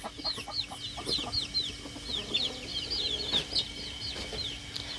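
Chickens cluck and chirp in a rural yard, rapid overlapping calls repeating steadily at close range over a faint background hum.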